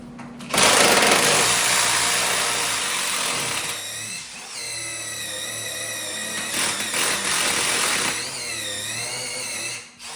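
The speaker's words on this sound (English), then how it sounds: "I'm just going to drill out over here." A loud power drill whines steadily as it drills through wood, its pitch dipping and climbing in bursts as it bites in, with a brief pause around the middle.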